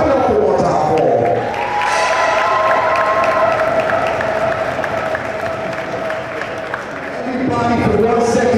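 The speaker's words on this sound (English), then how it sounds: "clap it up one time for them" A loud crowd cheers and claps in a large gym at a high school basketball championship game while a voice talks over the noise, the roar easing midway then rising again.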